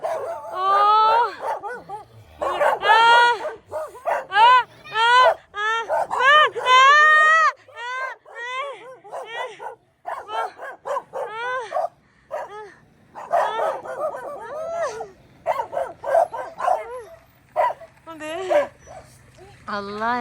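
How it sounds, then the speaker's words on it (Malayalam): Several dogs in a small, sparsely populated village bark and yelp close by in rapid, excited bursts, some whimpering between, with a person's voice heard among them. "എന്നെ കണ്ടിട്ട് കുറേ പട്ടികൾ ഓടി വന്ന് കടിക്കുമെന്തോ"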